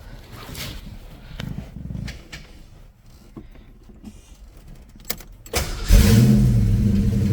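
A 1989 Ford Mustang Foxbody in a workshop, up on a lift, after quiet shuffling and clicks, cranks briefly and catches, then settles into a loud, steady idle close by.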